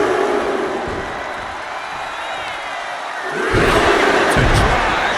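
A wrestling arena crowd in the video game WWE 2K25 roars in a broad, steady wash that swells louder partway through, like cheering rising behind a wrestler. It comes across as distant and dense, with no clear voices on top.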